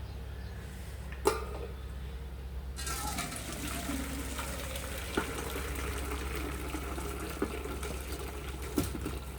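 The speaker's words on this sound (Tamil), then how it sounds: "இப்போ வந்து நம்ம இந்த வடிகட்டில் வடிக்கிறேங்க" Boiled mixed vegetables for soup drained through a strainer, with water gushing and splashing steadily at a soft, low level, broken by a few small clinks.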